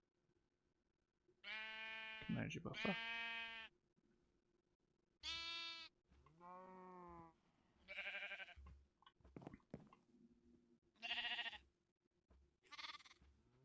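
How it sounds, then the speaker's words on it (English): A baby sheep in the Minecraft video game bleats several times in short separate calls spread over a quiet background, with a brief spoken remark in between. "I have the baby sheep in here."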